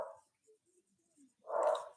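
A pet dog gives a short bark, followed by a pause with faint small sounds and then a louder, fuller bark, close by and alone.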